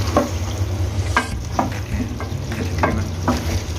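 Beef karahi frying in ghee after the tomatoes have broken down, a steady close sizzle with a spoon scraping and stirring the pan in repeated strokes.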